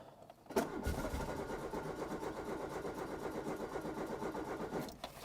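A vintage car engine cranks over repeatedly without catching, a steady rhythmic churning of the starter that keeps up for several seconds and then stops, heard close and alone.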